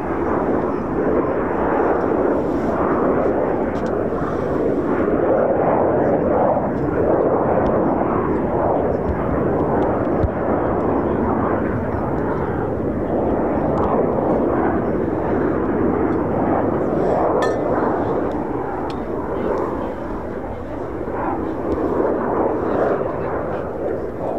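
An RAF Eurofighter Typhoon FGR4 of 29 Squadron makes a low approach over RAF Coningsby, a loud, continuous jet roar that holds steady and close throughout with no break.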